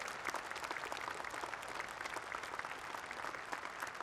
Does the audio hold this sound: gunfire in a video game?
no